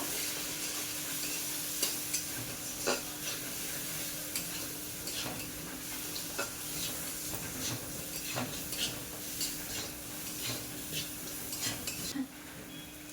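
Turmeric fries in oil for a vegetarian ghugni, giving a soft steady sizzle with periodic spoon taps and stirring scrapes against the pan, faint and close, without talk.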